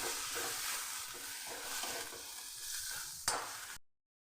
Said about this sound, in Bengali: আমি সবগুলোকে একটু ভালো করে নেড়ে নিচ্ছি।